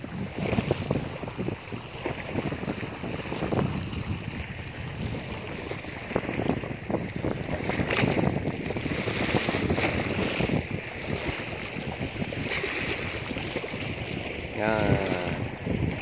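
A boat engine drones steadily across the sea off Hon Tre island, Kien Hai, Vietnam, mixed with wind buffeting the microphone and splashing, with a voice speaking briefly under the noise.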